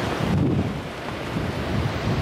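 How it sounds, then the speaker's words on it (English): Waves surge and crash continuously on the beach at Scarborough, a steady broadband roar of surf mixed with gusty wind buffeting the microphone, with no voices. "Waves crashing on the beach."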